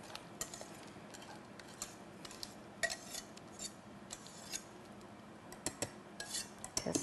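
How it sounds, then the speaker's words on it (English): Polenta is spooned into a buttered pan with faint, scattered clinks and soft scrapes of a utensil against the pan, quiet and close with short pauses between knocks. "we are putting in this incredibly delicious polenta"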